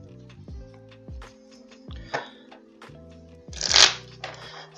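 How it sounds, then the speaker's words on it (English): A new deck of playing cards being shuffled by hand, riffled several times in quick bursts with soft tapping between, close and clear, with a louder riffle near the end and no talking. "shuffles down here. Get this new deck all mixed up for when I play it this weekend."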